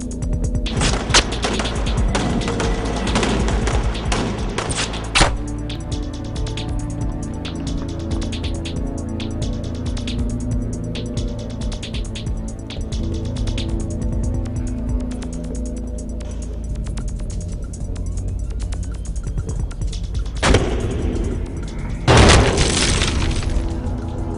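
Several guns fire together in a dramatic action scene, a dense sustained barrage of overlapping shots with sharper cracks and a heavy burst near the end, loud and unbroken.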